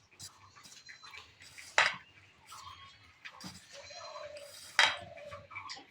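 Paratha dough ingredients get mixed in a bowl, with soft scraping and stirring broken by two sharp clinks of a utensil against the bowl, quiet and close.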